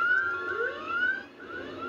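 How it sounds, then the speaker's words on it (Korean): An electronic warning tone sounds from automatic licence-plate reading software in a highway enforcement vehicle, a loud wavering alarm that holds steady and then briefly dips, with no talking. "차량 번호판을 자동 판독하던 프로그램에서 갑자기 경보음이 울립니다."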